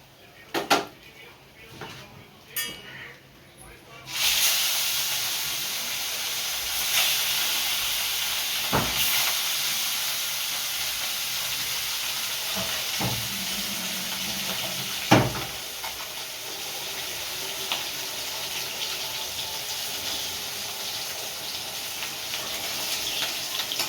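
Katla fish pieces fry in a pan with a steady, close hiss and sizzle that runs continuously after a brief quiet start, with a few faint clinks along the way.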